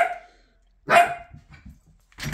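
A dog barks loudly once, then gives a run of softer, quick yaps and a final bark, heard outdoors by a river at the end of the day.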